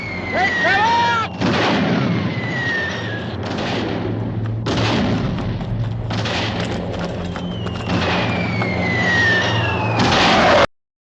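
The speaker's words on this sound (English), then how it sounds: "Immediately the challenge is taken up by anti-aircraft gunners." Anti-aircraft guns firing in a WWII newsreel, a dense barrage of booms and thuds over a steady low drone, with whistling falling tones sweeping across and no pauses until it cuts off abruptly.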